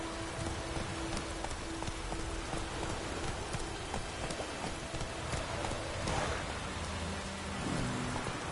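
Steady rain hisses over a countryside in The Witcher video game, with a horse's hooves clopping beneath it and a brief low swell of thunder near the middle.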